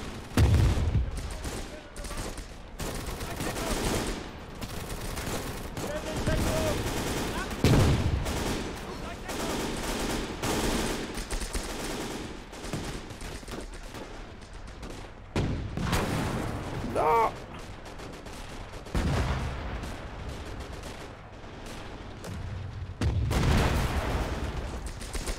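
Gunfire and cannon fire in the World War II game Call to Arms - Gates of Hell, with bursts of rifle and machine-gun shots, heavy booming blasts and clanking mechanisms, dense and loud throughout while someone talks intermittently.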